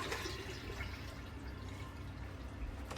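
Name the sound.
water filling a boat toilet holding tank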